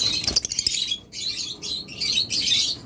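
Pet birds at a bird farm, among them mynas, lovebirds and budgerigars, chirp in bursts of bright, high tweets close by, with a flurry of wing flaps at the start and short pauses between calls.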